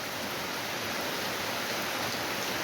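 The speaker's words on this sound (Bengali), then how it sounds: "জানালায় কি পরিমাণে বৃষ্টি হচ্ছে একবার দেখো" Heavy rain pours outside a window during flooding, a dense, steady wash of hiss with no breaks, fairly close and unchanging throughout.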